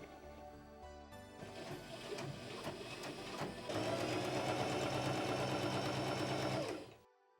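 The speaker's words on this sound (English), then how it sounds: "Now that we have this bottom hem pinned, it is time to sew." A sewing machine stitches a shirt hem, starting with a brief whir, then running loud and continuous at a steady rattling pace for several seconds before winding down abruptly.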